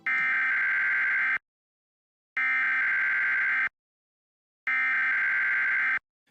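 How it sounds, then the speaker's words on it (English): Three bursts of harsh, buzzy digital data tones, the SAME header of a US Emergency Alert System broadcast, each lasting over a second and separated by silence, loud and grating. "The first is called the SAME header,"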